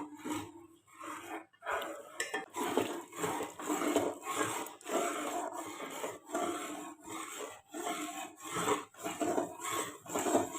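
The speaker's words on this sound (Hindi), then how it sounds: "मुसलसल चम्मच चलाते हुए हम इसे 4-5 मिनट तक पकाएंगे" A spoon stirs custard in a cooking pot, making soft, rhythmic scraping and rubbing strokes that repeat steadily and quietly against the pot.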